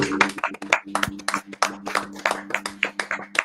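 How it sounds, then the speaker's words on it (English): An audience claps in a quick burst of sharp, uneven hand claps at close range, with a steady low hum running underneath, during a late-night sports talk show. "clap it up real quick for our audience"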